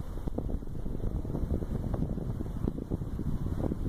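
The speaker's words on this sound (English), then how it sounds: "I know there's a little bit of wind behind me." Wind blowing outdoors beside the Rochdale Canal near the Middleton Arndale shopping centre, a steady rumbling buffet across the microphone that continues without a break and with no voices.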